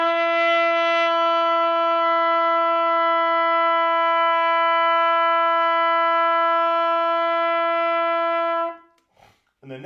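A trumpet holds a single sustained B, steady and bright at close range for about eight seconds before cutting off, followed by a brief rustle.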